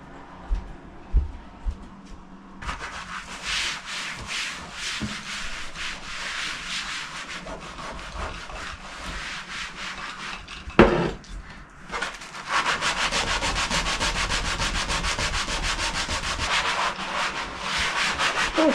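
A craft room table is scrubbed with steady, close rasping strokes, a continuous rough rubbing that grows louder and denser in the second half.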